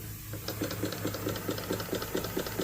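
A small stationary model engine runs on compressed air with a quick, even chuffing and clicking rhythm, steady and fairly close, with no voices over it.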